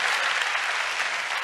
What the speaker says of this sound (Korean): 보통 사람들이 이렇게 박수를 쳐주세요.